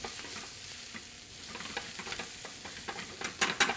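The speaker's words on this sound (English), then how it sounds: "And then I'm going to add mirepoix, carrot, celery, and onion. And I'm going to give that a little bit of a saute." Carrot, celery and onion mirepoix sautéing in a hot pan ahead of braising meat, a continuous close sizzle broken by repeated stirring scrapes and clacks that grow louder near the end, with no voices.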